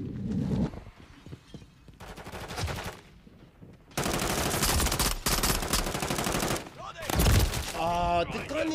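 Machine gun fire in the Modern Warfare 3 multiplayer game, loud sustained automatic bursts with short gaps between them, ending in scattered clicks and effects.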